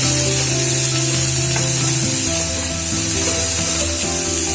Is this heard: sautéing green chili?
yes